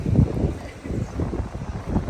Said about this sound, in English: It's very windy if you can't hear